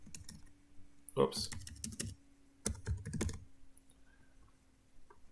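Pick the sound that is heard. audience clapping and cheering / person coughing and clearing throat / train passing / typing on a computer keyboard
typing on a computer keyboard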